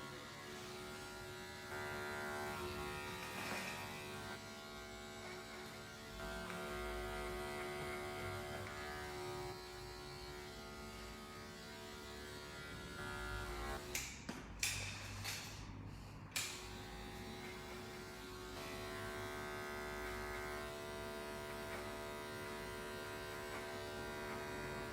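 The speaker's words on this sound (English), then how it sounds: "with the clipper of a comb, I'm just really just kind of going over" Electric hair clippers run over a comb while trimming a man's short hair, a faint steady buzz with a brief sputter of clicks and rustling near the middle before the drone resumes.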